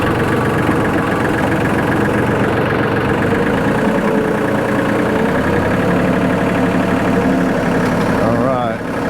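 A tractor engine idles steadily and loudly close by, a constant low rumble with faint mechanical rattle that holds throughout before dipping slightly at the end.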